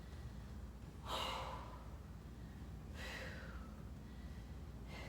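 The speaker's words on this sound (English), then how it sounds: "inhale and exhale." Two slow, breathy inhales or exhales come during a glute-bridge workout set, spaced a couple of seconds apart over a low steady hum, close but soft, with no speech.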